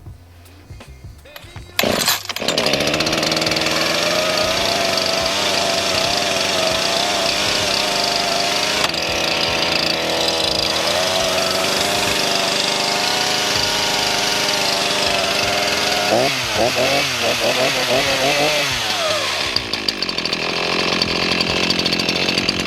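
An ECHO CS 4910 chainsaw engine catches after a pull or two and then runs steadily at a loud, close idle for about twenty seconds, with a brief rise and fall in revs near the end.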